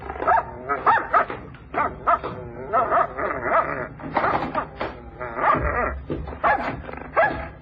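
A dog barks repeatedly in short, lively bursts, fairly close, with some yips mixed in over a low background hum.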